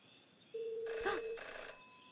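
A telephone rings in the Jenny LeClue detective video game, a single sustained electronic ring tone that starts abruptly and carries a bright, layered chime, standing alone without any talk.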